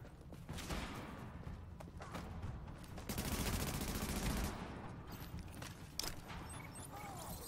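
Gunfire in the shooter game The Division, quiet bursts of rapid automatic shots with a denser volley in the middle, heard under faint game ambience.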